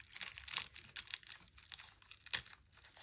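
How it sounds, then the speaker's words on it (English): A paper page torn by hand in an art journal, faint crinkling and short ripping bursts in an irregular rhythm, quiet and close with a sharper tear near the end. "I'm just going to rip the page as opposed to cut it with a scissor"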